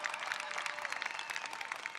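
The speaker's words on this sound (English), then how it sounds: "But how about a round of applause for James Moore, leading us in the national" A crowd at a Maryland governor's inauguration applauds, dense steady clapping filling the space at moderate distance, without pause throughout.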